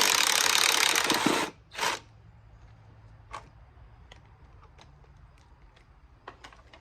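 An impact wrench backing out a bolt during a motor mount repair: one long, loud rattling burst, then a shorter second burst, followed by scattered faint clicks and taps.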